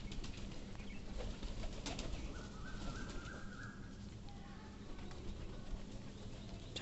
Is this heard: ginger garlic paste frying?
no